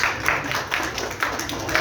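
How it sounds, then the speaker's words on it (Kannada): Loud applause from a crowd at a hospital inauguration, steady clapping that rises in bursts through a short stretch. "ಜೋರಾದ ಚಪ್ಪಾಳೆ"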